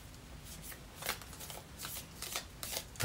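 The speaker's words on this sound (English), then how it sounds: "this deck is always fun to shuffle with" A deck of Lenormand cards being shuffled, with repeated crisp riffling bursts close by, no talking.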